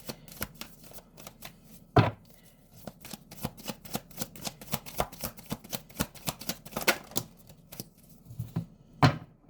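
Tarot cards being shuffled and drawn at close range, a rapid run of crisp flicks and slaps with a few sharper snaps as cards are placed down, quiet room, no talking.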